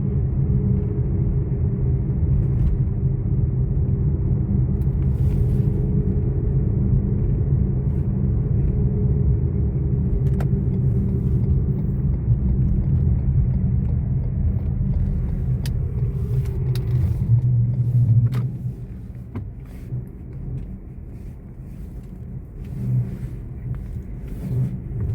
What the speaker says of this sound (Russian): Ну все, Lexus у нас нормально едет.